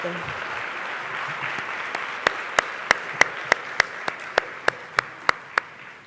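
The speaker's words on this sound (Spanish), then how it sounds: "Así que, doctora Marisa, yo no sé si le han dado un aplauso ya hasta este momento, pero yo creo que se lo merece absolutamente." Lecture audience applauding, a dense bed of clapping joined midway by a single person's loud, evenly spaced claps standing out near the front.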